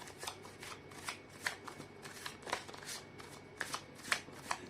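Tarot cards are shuffled by hand in a rapid series of crisp riffling bursts, close and fairly quiet, in an even rhythm.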